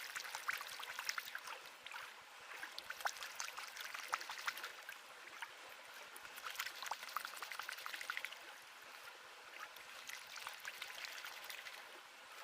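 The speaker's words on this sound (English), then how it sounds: "I'm going to do a real quick test pan of the overburden" Water sloshes and swirls in a gold pan during a quick test pan of overburden, a continuous close splashing and trickling outdoors, quiet and unbroken by speech.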